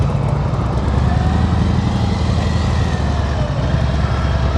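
A motorcycle ridden at slow speed during a riding-skills practice session in Florida, its engine giving a loud, steady low rumble close by, continuous throughout with no voices.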